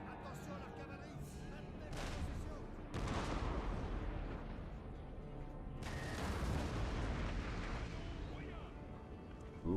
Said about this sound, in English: Love the artillery